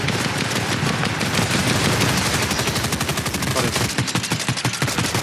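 Rapid automatic gunfire in Fortnite, a loud, sustained stream of shots firing in quick rhythmic bursts that continue through the whole stretch, dense and close.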